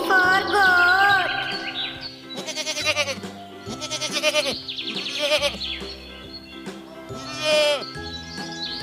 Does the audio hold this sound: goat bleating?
yes